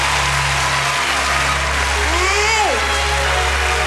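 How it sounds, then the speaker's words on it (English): A live audience at the Apollo gives Cheryl Pepsii Riley a round of applause: steady, thick clapping that fills the hall throughout, with a brief whistle rising above it. "please give a warm round of applause for me"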